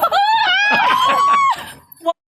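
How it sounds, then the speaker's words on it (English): Women aboard a Blue Origin rocket during an all-women spaceflight let out a loud, sustained high scream with several voices overlapping, cutting off after about a second and a half, followed by a brief shout. "You just hear them screaming from the rocket?"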